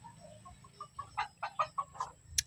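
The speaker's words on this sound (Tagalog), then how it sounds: "Mga manok ko" Several chickens cluck in a quick string of short, soft calls, fairly close, ending with a brief sharper squawk; no talking.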